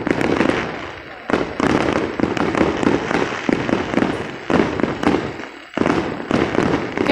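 A rapid-fire fireworks barrage goes off at close range, with loud, dense crackling explosions in continuous volleys and brief gaps. A voice talks underneath.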